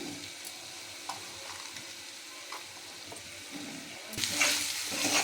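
Spice paste and squeezed, soaked soybean chunks sauté in a pan with a low sizzle and occasional stirring scrapes, the frying swelling louder and brighter in the last second.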